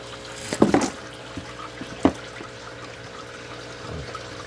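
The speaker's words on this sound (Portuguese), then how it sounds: "a sifonagem daqui do meu sistema é para retirar a sujeira de fundo" Siphoning dirt from the bottom of a goldfish breeding tank produces soft gurgling water sounds, with a couple of brief louder slurps and splashes against a steady background hum.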